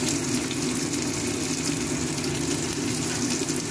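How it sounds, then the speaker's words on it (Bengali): Chopped onions go into hot oil in a home kitchen pan, producing a steady, even sizzling hiss that holds at one level for the whole stretch. "তেল গরম হয়ে গেছে, এরপরে আমি ফার্স্টে পেঁয়াজ কুচিটা ছেড়ে দিলাম।"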